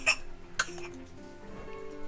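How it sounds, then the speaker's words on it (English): Two short, faint coughs, close by, with a quiet background hum between them. "You're coughing."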